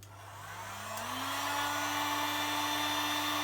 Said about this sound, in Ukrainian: як знімати етикетку будівельним феном